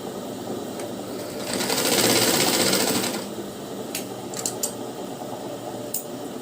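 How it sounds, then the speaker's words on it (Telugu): A sewing machine runs a double stitch on a blouse lining, a loud close whirring burst lasting about a second and a half, followed by a few short clicks and rustles of fabric handling. "అంటుకోకుండా డబుల్ కుట్టు వేసుకుంటే మనకి గట్టిగా ఉంటుంది."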